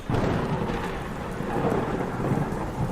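Steady heavy rain with deep rolling thunder rumbling beneath it, continuous and loud throughout, with no voices.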